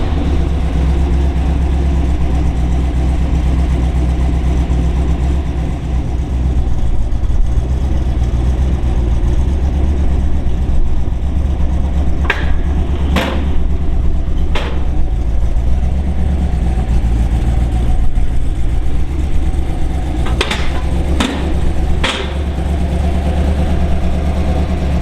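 A 1969 Dodge Charger 500 with a HEMI engine and 4-speed idles loudly and steadily up close. Its deep rumble holds throughout, with a few sharp clicks partway through and no talking.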